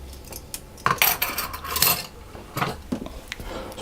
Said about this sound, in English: So I'll just whisk that together a little bit